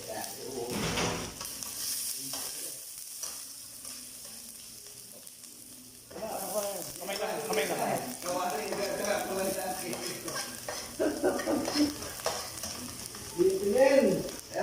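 Chili is tossed into a pan of frying lobster, giving a steady sizzle that swells louder after a few seconds, with stirring clatter and voices talking over it.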